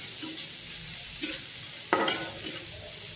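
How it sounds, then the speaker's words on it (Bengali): Onions fry in a pan over a low flame while a utensil stirs them, giving a soft sizzle broken by a few sharp scraping strokes. "ভালো করে পেঁয়াজটাকে পুরো ভাজা ভাজা করে নিতে হবে"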